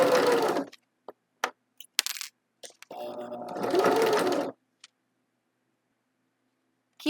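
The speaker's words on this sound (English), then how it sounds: "you can continue sewing" Home sewing machine stitching a T-shirt hem, two loud motor runs of rapid needle stitching separated by scattered clicks, then a quiet pause.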